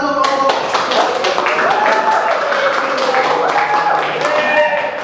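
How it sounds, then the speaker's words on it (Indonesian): An audience clapping for a group in a classroom-style session, a brisk burst of hand claps over a speaking voice and some background tones. "silakan tepuk tangan untuk kelompok"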